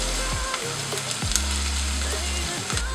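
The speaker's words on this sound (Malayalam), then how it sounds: "ഇപ്പോൾ ഇഞ്ചിയും വെളുത്തുള്ളിയും അവിടെ കിടന്ന് മൂക്കുന്നുണ്ട്" Ginger and garlic frying in coconut oil for a buttermilk curry, a steady close sizzle with occasional clinks and scrapes of a spoon, no talking.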